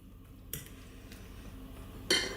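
A utensil scrapes and clinks against a bowl while potato galette mixture is stirred with parmesan, making two sharp clinks between soft scraping, quiet and close.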